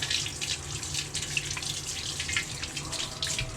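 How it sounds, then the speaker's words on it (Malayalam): Capsicum rinsed under a running kitchen tap, a steady splashing stream with small drips and rustles as the vegetable is washed close by, with no talking. "നല്ല വെള്ളത്തിൽ അതിനെ സ്നാനം ചെയ്യുക."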